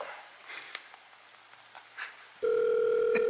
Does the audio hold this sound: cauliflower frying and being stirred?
no